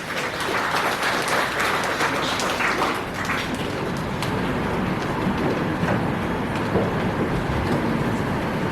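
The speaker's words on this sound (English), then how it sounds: "Let us give her a round of applause." Steady, dense applause fills a hall at a PTA induction ceremony for new officers and board members, many hands clapping continuously at fairly loud level for nearly nine seconds with no talk over it.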